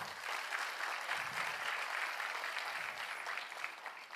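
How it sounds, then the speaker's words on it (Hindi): Audience clapping at a talk on digital payment apps, a dense, steady patter of many hands held at moderate volume for about four seconds with no speech over it. "ताली बनती है भाई।"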